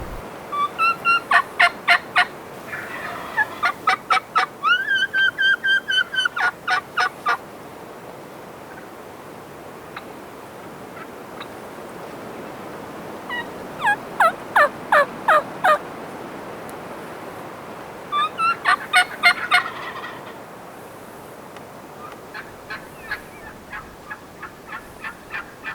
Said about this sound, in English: 2 more gobblers coming in from the left, Troy.